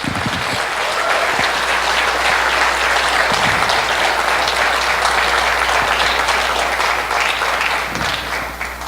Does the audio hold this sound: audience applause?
yes